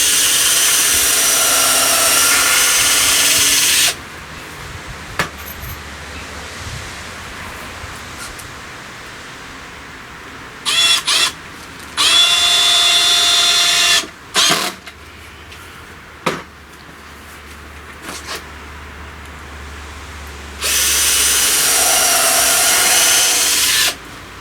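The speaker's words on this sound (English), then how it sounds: "then I can get the screws in nice and easily" A power drill drives screws into a wooden raised bed planter, with loud whirring bursts at the start and end and a few shorter runs in between, separated by quiet pauses.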